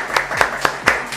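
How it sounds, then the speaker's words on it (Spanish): Applause welcoming a guest at a municipal event, heard as a few distinct, evenly spaced claps, roughly four sharp strikes within about a second rather than a full crowd. "lo vamos a recibir con un muy fuerte aplauso."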